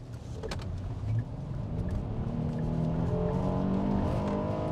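A Hyundai Palisade Calligraphy SUV on a handling test gives a continuous engine and road hum that rises slightly in pitch, with faint tire noise and no talking.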